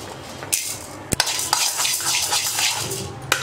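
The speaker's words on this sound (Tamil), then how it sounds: "இப்போ உளுத்தம் பருப்பு போட்டுக்கலாம்." Urad dal roasting in a hot pan for tamarind rice, a steady dry sizzle with scraping stirs and a few sharp clinks of the spoon against the pan, close and without talk.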